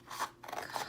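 Scissors snipping paper for a collage, a single short close cut with a soft crisp shear lasting about a second.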